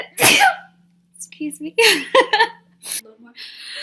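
A single loud, sharp sneeze bursts out close up at the start, followed by a person's voice speaking briefly afterward.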